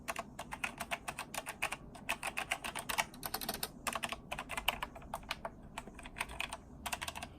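Fast, steady typing on a Logitech G Pro TKL tenkeyless keyboard, with dense clusters of crisp keystroke clicks in an uneven rhythm, close and fairly quiet, with no talking.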